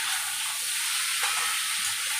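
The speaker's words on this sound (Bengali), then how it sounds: "আন্দাজ মতো লবণ দিয়ে দিচ্ছি। এবার এটাকে ভালো করে কষে নেব।" Vegetables for dudh shukto sauté with salt in a pan, giving a steady, close hiss of frying oil with light stirring throughout, no talking.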